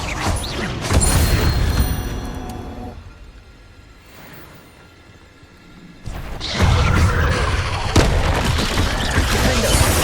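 Spell blasts explode in Hogwarts Legacy: loud booming impacts and crashing debris, a quieter rumbling lull in the middle, then another dense burst of heavy blasts.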